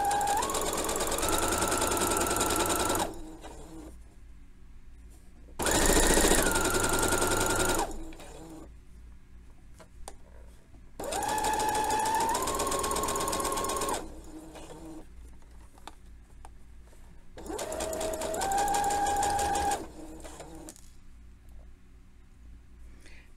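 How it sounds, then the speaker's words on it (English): A home sewing machine backstitches a crotch seam on a pair of trousers, whirring in four steady bursts of a few seconds each, with quiet pauses between runs and no talking. "We're going to backstitch because this is the permanent stitching."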